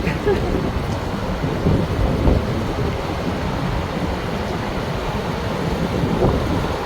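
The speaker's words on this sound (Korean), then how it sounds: "여기는 물소리가 완전히 예술이에요" River water flows steadily past a riverside campsite on the Seomgang River in Hoengseong, Gangwon-do, making a continuous broad rushing wash that stays loud and even throughout with no clear voices.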